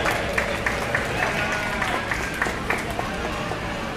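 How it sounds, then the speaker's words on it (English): Spectators at an open sheep show clap for Romney rams, a moderate patter of scattered applause with individual claps audible over background crowd noise and murmuring. "Let's give these a round of applause."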